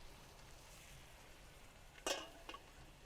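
Steak searing in a hot oiled pan, a faint steady sizzle with a sharper crackling hiss as the meat goes in, then a brief second spit.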